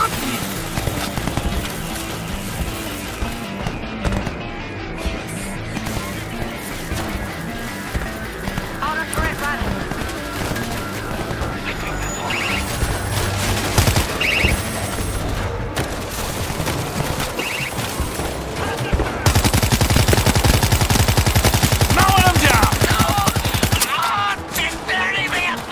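Continuous gunfire from the World War Z video game, with rapid automatic bursts layered over a dense mix of game noise and excited voices talking throughout, swelling louder in the final seconds.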